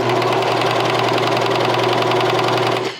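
A serger sewing machine stitches a knit seam with a fast, even, rhythmic whirring clatter, running loud and close for about three seconds before cutting off.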